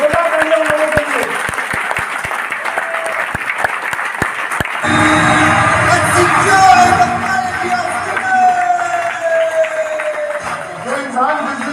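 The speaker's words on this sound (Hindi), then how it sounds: "जोरदार तालियां लोगों के लिए।" Loud applause and cheering from a seminar audience at a business motivational talk, sharp claps and thumps at first, then a swelling roar of clapping, whoops and shouts that holds steady.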